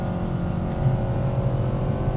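A 2025 Nissan Kicks SR accelerates in sport mode to pass, a steady, moderately loud engine drone heard from inside the cabin with a slight rise in pitch.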